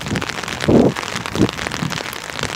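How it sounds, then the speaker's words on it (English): Steady rain patters on surfaces outdoors with a constant dense hiss, and a few louder splashes stand out from it. "Frank, why are you in the rain?"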